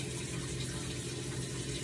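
Hot water poured over saffron to soak it, a steady continuous splashing rush with no pauses, close and moderately loud.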